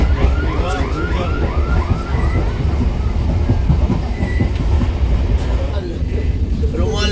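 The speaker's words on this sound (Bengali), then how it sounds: "ট্রেন ছেড়ে দিল পলাশীর স্টেশন থেকে।" A local train pulls out of Palashi station, rumbling loudly with rhythmic wheel clatter and metallic squeals close by. Passenger voices murmur under the continuous rolling noise.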